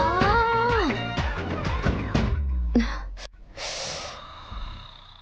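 A man snores loudly and deeply, with harsh snorting and gasping breaths that rise and fall up close. Several heavy breaths follow in sequence, with no other sound over them.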